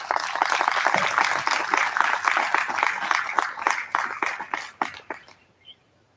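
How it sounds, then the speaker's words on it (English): A round of applause from the audience at a military change of command ceremony honoring distinguished guests, with sharp individual claps that thin out and fade to silence near the end. "Please join me in a round of applause in honor of our distinguished guests."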